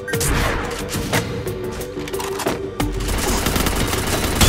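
Gunfire in a shooter video game scoring headshots, a loud, near run of rapid shots in bursts, dense and continuous across the moment with no talk.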